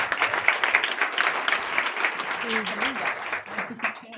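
An audience claps to welcome a speaker to the stage at a global health initiative launch, sustained applause filling the room with a voice speaking over it partway through.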